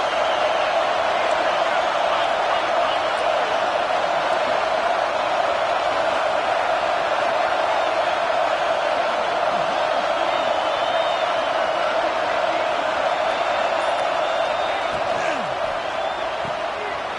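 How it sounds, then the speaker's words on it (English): A football stadium crowd roars in a college football video game as the defense tries for a red-zone stop, a loud, steady wall of noise that holds throughout. "This crowd is trying to inspire this defense to make a big red zone stop"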